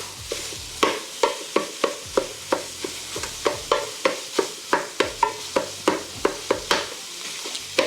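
Sausage sizzles in a hot pan while a utensil scrapes and chops at it in quick, steady strokes, close up, with no talking.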